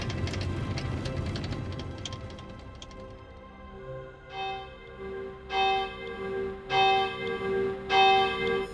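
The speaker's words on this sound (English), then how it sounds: "as the bells are ringing out at St. Cunegon's Church" Church bells ring out in a series of resonant strikes at St. Cunegonde's Church in Clausen, Luxembourg, growing clearer and louder toward the end over faint background noise.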